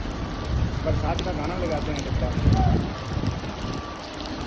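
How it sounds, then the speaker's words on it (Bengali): Steady heavy rain hisses across the whole stretch at a construction work site with cranes in Saudi Arabia, a dense broadband wash with a faint low rumble beneath it and no break. "অনেক বৃষ্টি হচ্ছে"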